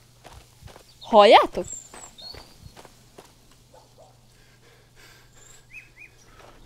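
Running footsteps in the horror game Maid of Sker, a quick regular patter of steps with faint bird chirps, briefly masked by a loud spoken word near the start.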